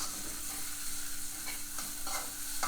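Curry paste stir-fried in a hot pan for northern Thai nam prik ong, a close, continuous sizzle with scraping stirring strokes and no talking.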